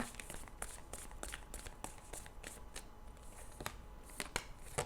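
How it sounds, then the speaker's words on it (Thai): Tarot cards slide and flick out of a deck in a row of quick, crisp riffling snaps close by. The taps fall at irregular intervals over a soft, steady background hiss. "มีไพ่สไลด์ลงมาแล้วนะคะ3ใบนะคะ"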